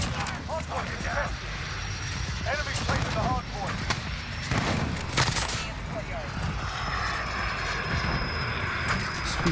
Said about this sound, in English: We got a support helo.